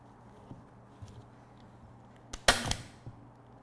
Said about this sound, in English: Put a staple in